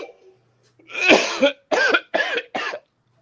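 Several harsh coughs in a row, one long rough cough followed by three shorter ones, close and loud with no talking.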